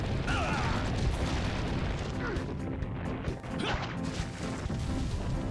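A heavy boulder rumbles and crashes along in Resident Evil 4, a dense, loud stream of smashing and thudding impacts with scattered sharp cracks, steady throughout.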